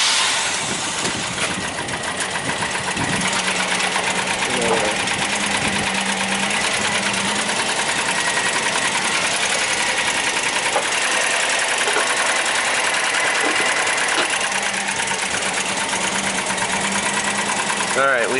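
A Nissan Maxima engine with a misfire idles steadily after starting, a constant close mechanical running sound with faint ticking, lasting about eighteen seconds.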